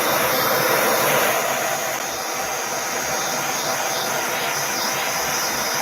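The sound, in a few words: heat gun softening jewelry pieces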